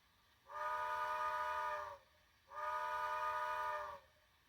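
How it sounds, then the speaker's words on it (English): Two long, steady blasts of a model steam train whistle, each about one and a half seconds, separated by a short pause in a quiet room. "Two blasts of the whistle and we are on our way to Cedarville."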